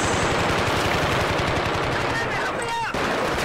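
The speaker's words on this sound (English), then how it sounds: "Checking out this ACR, you can really see how good a reliable engineered gun it is." Rapid automatic fire from an ACR assault rifle in a close-quarters team deathmatch shooter, a dense, loud, continuous stream of shots with a brief dip near the end, a voice faintly underneath.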